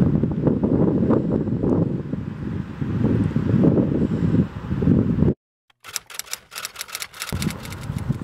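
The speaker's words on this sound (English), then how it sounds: "Oh, it's very windy still here." Strong wind buffets a handheld microphone while walking through a car park, a loud continuous rumbling roar that cuts out abruptly for a moment before returning in uneven gusts with scattered rattling crackle.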